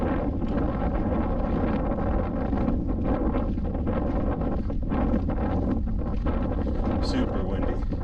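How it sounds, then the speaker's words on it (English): Strong wind at about 7,500 feet on a snowy mountain pass buffets the microphone in a constant loud roar, gusting unevenly throughout with brief dips and surges. "Super windy."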